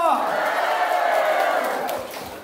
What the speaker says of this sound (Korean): 소리 질러